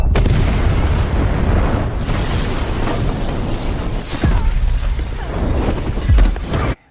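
A bomb explodes in a film scene: a loud, sustained blast with booming low rumble and crackling debris lasting several seconds, then a final heavy thud before cutting out; no voices.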